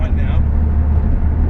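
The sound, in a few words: McLaren 600LT sports car driving on the road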